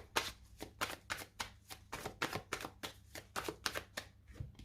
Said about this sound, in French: je vais poser les cartes décan par décan